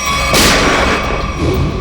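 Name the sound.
gunshot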